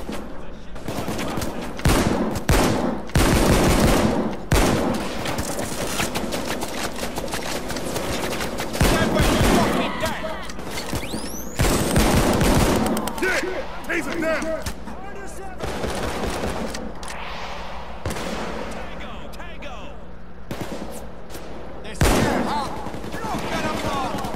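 Heavy gunfire in the heist shooter Payday 2, with repeated loud blasts and bursts of shots clustered throughout, interspersed with quieter stretches and a voice talking in between.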